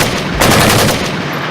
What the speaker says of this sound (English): This is the end result of me shooting the rifle.